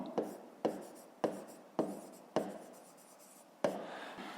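A pen writes out a fifth-grade math solution on paper, giving six distinct scratchy strokes at uneven intervals, close and quiet against a silent background.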